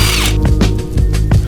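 A power tool spins off 14mm bolts from the factory brace under a Lexus IS300 during a suspension job, giving short bursts of whirring and rattling close up, stopping and starting several times.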